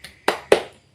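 Three sharp hand claps in quick succession, close and dry, forming the short 'tepuk semangat' spirit clap rhythm in a children's elementary school lesson.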